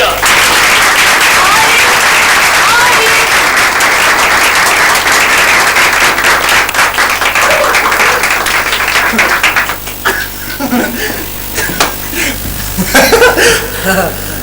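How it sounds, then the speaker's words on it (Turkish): Loud, dense audience applause fills a stand-up comedy show for about ten seconds, then thins into scattered clapping, chuckles and laughter as the performer begins. "Büyük bir alkışla"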